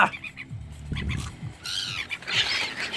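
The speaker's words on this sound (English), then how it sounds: "I'm gonna feed the seagulls." Seagulls being fed by hand give harsh, overlapping squawks and calls, fairly close, with a louder burst of shrill cries toward the end.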